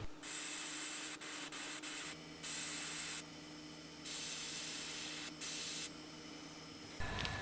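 A spray paint can hisses in repeated bursts of a second or so, separated by brief pauses, close by and steady, with no voices.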